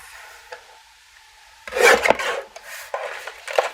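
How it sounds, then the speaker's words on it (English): Paper rasps and rubs as pattern paper for card stamping is cut down to size, a soft faint scrape early on followed by a louder, close rough sawing swipe of a blade across the sheet. "I'm going to cut down my pattern paper here to 4."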